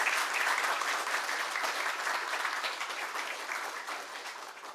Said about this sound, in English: Could we have a round of applause for all of our high school graduates?